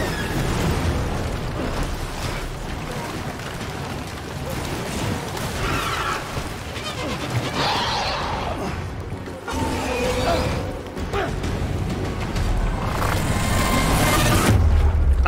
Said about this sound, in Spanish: eso es una explosión